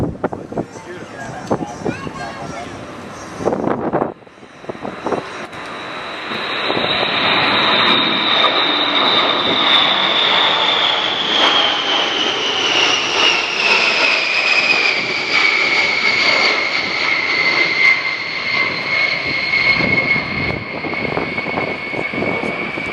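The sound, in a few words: USAF B-52 Stratofortress bomber jet flyby at airshow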